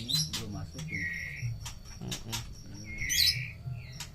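Birds at a murai batu breeding farm chirp and whistle in short bright calls over a constant low rumble of background noise, with people talking throughout.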